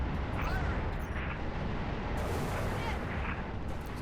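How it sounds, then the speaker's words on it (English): Gunfire in the Halo Reach video game, a dense continuous roar of weapon fire and booms filling the whole stretch, loud and unbroken. "You should get out from in front of their guns."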